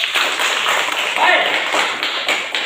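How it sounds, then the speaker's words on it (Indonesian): Schoolchildren in a classroom clap for the groups in a lesson, a brisk run of close, steady claps throughout. "Sekali lagi mari kita tepuk tangan untuk semua kelompok."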